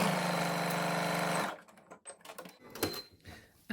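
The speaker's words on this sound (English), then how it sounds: "we're going to stitch using the 1 centimetre seam allowance all the way down the length of the side seam of the pocket" Sewing machine running a continuous stitch down the side seam of a shorts pocket at a 1 cm seam allowance, a steady close whir for about a second and a half before it stops, followed by faint handling noises.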